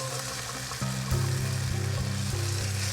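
Food sizzles and fries steadily in a pan while being stirred, with rhythmic scraping and stirring strokes that grow louder partway through, close and continuous with no talking.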